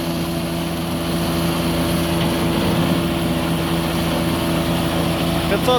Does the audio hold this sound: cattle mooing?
no